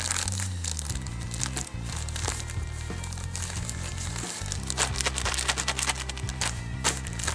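Plastic bag crinkles and rustles steadily while clothes are pushed into it during packing. The crackling sounds close and continuous and runs over a low, steady tonal background.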